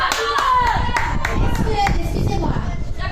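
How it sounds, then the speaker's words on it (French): An audience at a forum theatre event applauds loudly and close up, with dense, energetic clapping throughout and a few voices and cheers mixed in. "Bravo, on applaudit super fort."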